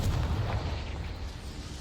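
A Confringo blasting spell explodes in the Hogwarts Legacy video game, a deep, rumbling boom that hits at once and slowly fades over under two seconds.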